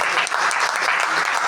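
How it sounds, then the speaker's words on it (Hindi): A crowd at an annual celebration and book launch claps steadily, a loud, continuous patter of many hands held at an even level throughout, with no speech over it. "एक बार ताली बजाकर मेरा सम्मान"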